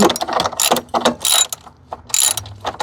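A ratchet socket wrench loosens the battery terminal nut on a 2022 Jeep Renegade, giving several loud, close bursts of rapid clicking separated by short pauses, with no talking.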